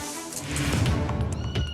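A kitten stuck inside a house cries in repeated high, thin meows, close and fairly loud over a background hum, with no talking.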